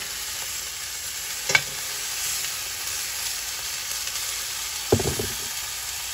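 Chicken sears in a cast iron skillet with a steady, close sizzle and crackle, broken by two brief clattering scrapes as the pieces are moved.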